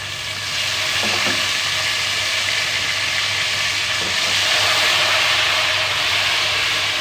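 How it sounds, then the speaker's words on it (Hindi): Spice masala dropped into hot oil for vegetable pulao, a loud, dense, steady sizzle that rises quickly and holds for several seconds, with a faint low hum underneath and a couple of light stirring knocks. "वो जो हमने ऑयल गरम किया था उसके अंदर मसाला डालते के साथ ही एक अच्छा सा फ्लेवर आना शुरू हो गया"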